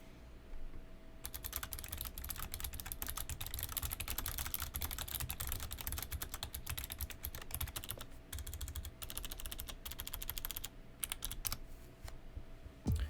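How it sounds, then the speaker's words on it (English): Continuous rapid typing on a Razer Ornata Chroma mecha-membrane gaming keyboard, dense clicky keystrokes with brief pauses, close and steady, no talk. "here's a quick sound test of the mecha membrane keys in the Razer Ornata"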